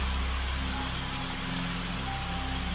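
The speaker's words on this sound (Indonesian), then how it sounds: "Payah ini, hujan gak berhenti-berhenti" Steady heavy rain falling outdoors, a dense constant hiss of drops on surfaces that holds loud and unbroken throughout, with no voices.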